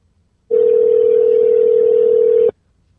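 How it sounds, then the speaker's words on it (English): A single steady telephone tone sounds loud and clear for about two seconds on an unanswered call, then cuts off abruptly into silence. "Answer the fucking phone."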